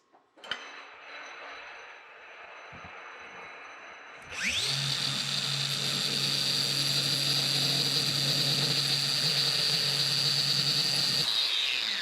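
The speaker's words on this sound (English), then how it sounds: "I'm going to hit the sides of these with the angle grinder" An angle grinder smooths the sides of wooden bandsaw wheels, starting with a short clunk and low hum, then a loud, sustained high whine with a steady grinding buzz underneath, close and alone.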